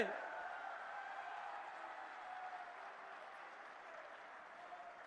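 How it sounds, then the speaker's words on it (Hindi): A large rally crowd applauds to welcome Indian Prime Minister Narendra Modi: dense, steady clapping that fills the whole stretch at an even level, with faint voices and chanting mixed in. "जोरदार तालियों से अपने प्रिय नेता का स्वागत करिए, जोरदार तालियों से।"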